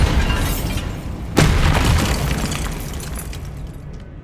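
Bombarda spell explosion in Hogwarts Legacy, a sudden loud blast partway through with a crackling, shattering burst that slowly rolls off into rumbling debris over a few seconds.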